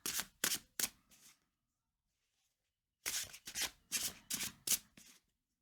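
Tarot cards shuffled by hand in two close bursts, a run of crisp riffling flutters, a pause of silence, then a longer series of rapid riffles.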